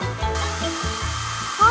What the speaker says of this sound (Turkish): Eski saç kurutma makinesi numarasını yapıyor.